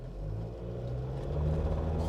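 An off-road vehicle fitted with a throttle controller accelerates hard and spins its wheels, a low, fairly quiet engine rumble that swells toward the end, with no voices.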